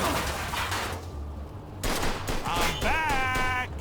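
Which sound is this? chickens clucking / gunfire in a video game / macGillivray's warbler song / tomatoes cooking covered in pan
gunfire in a video game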